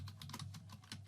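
Quick, steady keystrokes on a computer keyboard as a short name is typed, close and fairly quiet, with no talking.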